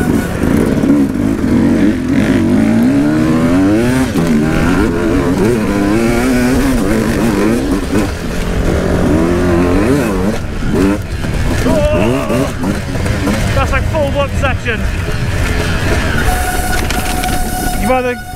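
An enduro motorcycle at a hare and hound event revs and bogs over bumpy ground, with the engine note rising and falling as the clutch is worked; the loud, close engine noise continues throughout, with a rider talking over it.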